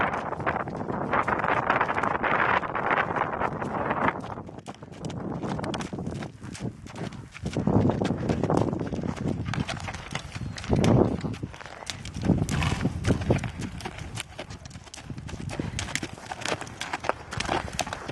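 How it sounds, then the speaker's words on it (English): Horse hooves clip-clop at a walk during a riding lesson around practice cones, the steady hoofbeats close by and mixed with gusts of wind across the microphone. "Now that we've had a crash course on horse riding"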